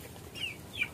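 Black Australorp heritage chickens in a backyard give two short soft clucks close by, with quiet farmyard background between them.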